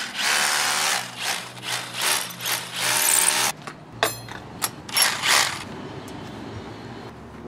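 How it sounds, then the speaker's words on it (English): Small Ryobi drill boring through brick, with pulsing grinding bursts that rise and fall for several seconds, then a sudden stop followed by a few short, rattling mechanical bursts before things quiet down. "We're gonna drill through the brick."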